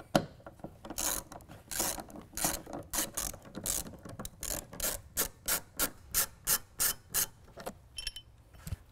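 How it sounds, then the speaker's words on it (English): A T50 Torx bit turns out the tie-down cleats in the bed of a Honda Ridgeline pickup with a hand ratchet, a series of close, rhythmic ratcheting clicks in regular bursts that speed into an even pattern before stopping. "We're going to use a T50 Torx bit."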